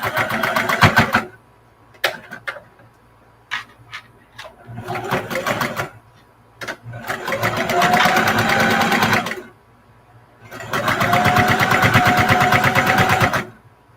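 Home sewing machine stitching a nursing arm pillow with a few back stitches, loud close bursts of rapid needle clatter, short stops and starts, then two long continuous runs separated by pauses.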